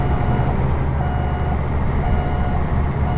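A truck in American Truck Simulator backs up in Utah. Its steady electronic reversing beeper sounds loud and close over a constant low engine drone.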